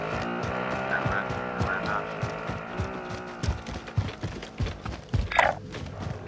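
A car driven in Call of Duty: Modern Warfare, an engine humming steadily with thumps and rattles as it moves, plus a brief high electronic chirp near the end.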